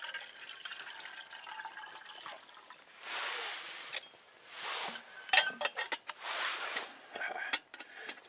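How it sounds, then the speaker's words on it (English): Water pours into a kettle on a homemade stick stove outdoors, coming in bursts of splashing and trickling with light metallic clinks, fairly close and moderately quiet. "Let's get some water in the kettle here."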